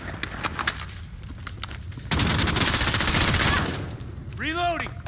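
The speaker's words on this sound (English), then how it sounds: "This is Horseman 3. We're taking fire." Gunfire in Call of Duty Modern Warfare: sharp single shots and short bursts, then a dense sustained automatic volley, close and loud, ending with a sweeping whoosh.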